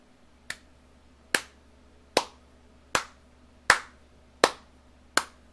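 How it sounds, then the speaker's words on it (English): Seven single sharp claps by one person, evenly spaced about once every three-quarters of a second, close and crisp over a low steady hum, with no voices. "I'll applaud that, man"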